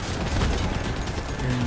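Vehicle-mounted guns fire continuously in a Crossout combat match, a dense, sustained rattle of gunfire with low rumbling engine and impact noise throughout.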